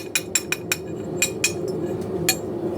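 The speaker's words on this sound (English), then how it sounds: "I just take a little ball peen hammer and knock it off." A small ball peen hammer knocks stubborn slag off a metal cut for oak leaf wall art, giving about eight sharp metallic taps, quick at first and then more spaced, over a steady workshop hum.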